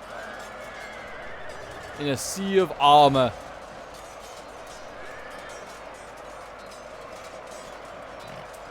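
Dwarf units in the Total War: Last Alliance battle with the Khazad-dûm faction give short whinny-like, horse-style calls amid a battle soundscape of armor and fighting, a brief burst in the middle, with someone commentating over it.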